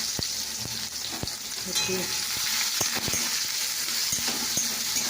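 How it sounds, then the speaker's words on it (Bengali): Onion frying in oil with bay leaf in a home kitchen, a steady close sizzle broken by sharp clinks and scrapes of a spatula stirring the pan. "ভাজা ভাজা করে নিতে হবে"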